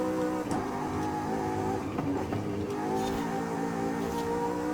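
Hot Wheels car engine in Forza Horizon 5 holding a steady, droning rev with layered harmonic tones and slight pitch wobble, continuous and fairly loud with no talking.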